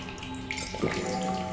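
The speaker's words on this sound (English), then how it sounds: "I can hear water." Running water in the video game The Solus Project, a soft continuous splashing trickle like a stream or tap, quiet and alone.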